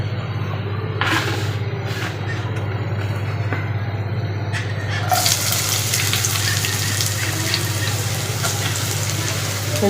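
Curry cooks in a pan in a home kitchen, with a low steady hum throughout and a loud, continuous sizzle breaking in about halfway through and carrying on to the end.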